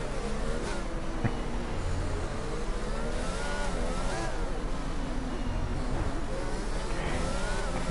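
Formula 1 cars race through the streets of Monaco in a racing video game, several engines whining and buzzing together in a steady, continuous drone as a train of cars passes.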